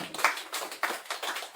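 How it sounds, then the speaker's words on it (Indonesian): Sparse hand clapping from an audience at a local community event, a few irregular claps over a short stretch at moderate distance, with no talk over it. "Tepuk tangan untuk beliau."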